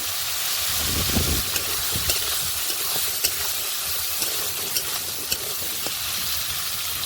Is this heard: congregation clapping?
no